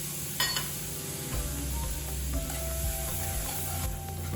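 Dabeli masala sizzling and being stirred in hot oil in a kadhai, a steady close frying hiss with scraping stirs throughout, no voices.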